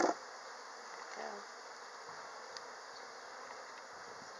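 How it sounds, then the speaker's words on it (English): Bees buzz steadily around an open hive during an inspection, a faint continuous hum with a few brief louder passes. "Look at all those bees."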